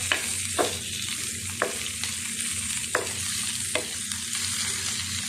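Fish fries in a pan with a continuous close sizzle, broken by regular scraping taps of a spatula about once a second.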